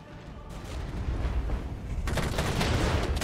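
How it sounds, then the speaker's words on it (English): Artillery fire in the war game Regiments, a steady rumble of distant booms and blasts that thickens and grows louder partway through, with no talk. "And artillery fire."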